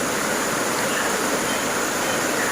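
Huay Kaew waterfall near Chiang Mai city at the foot of Doi Suthep, a steady broad rush of falling water heard continuously and fairly close, with no voices.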